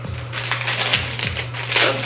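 Crinkly plastic packaging bags rustle and crackle close up as a makeup brush kit is unwrapped, a few bursts of crumpling at varied intensity over a couple of seconds.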